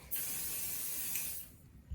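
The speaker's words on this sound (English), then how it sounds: "I'm going to spray my felt with a little bit of this 505 temporary adhesive." A can of 505 temporary adhesive sprays onto felt in one continuous close hiss lasting over a second, then cuts off, followed by a soft thump with no speech.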